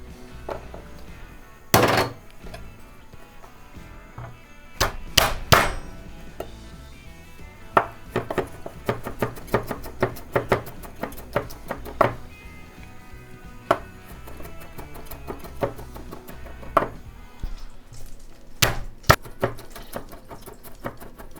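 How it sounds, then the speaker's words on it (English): A knife chops garlic cloves on a cutting board in quick, irregular taps with a few louder knocks, close and clear with no talk. "I'm just going to mince up a couple cloves of garlic"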